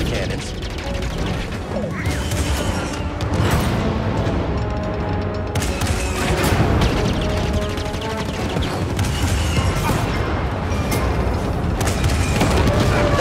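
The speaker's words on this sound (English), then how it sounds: "So that fires the cannons." Cannons firing in Star Wars Jedi Fallen Order on Kashyyyk, a loud, sustained barrage of booms and crashing impacts with mechanical clatter and rumbling, layered densely without pause.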